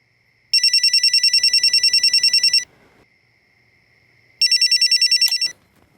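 A telephone rings at night with a bright electronic trill, two separate ring bursts of about two seconds and one second, loud and close, with near silence between them.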